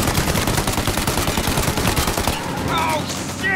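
Rapid gunfire in Mafia Definitive Edition, a loud, dense burst of repeated shots fired in quick succession during a car chase, stopping abruptly near the end as other game sounds take over.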